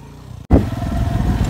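A motorcycle rides over a rough unpaved farm track, its engine chugging loud and close with a bumpy, rattling pulse after a brief cut.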